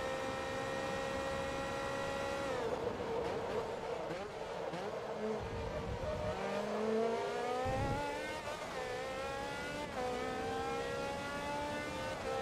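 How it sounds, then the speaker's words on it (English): A race car engine in the video game Forza Motorsport 2 bouncing off the rev limiter, a high steady whine with stepped rising pitches and brief cuts as gears change, loud and continuous. "I hit the rev limiter, so I'm going to have lost some time."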